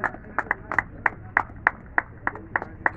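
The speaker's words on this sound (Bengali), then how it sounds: "এটা তার জন্য একটু জোরে করতালি" Audience clapping at a felicitation program for former Indian national footballers, a brief burst of separate sharp claps in an irregular rhythm, fairly close and distinct.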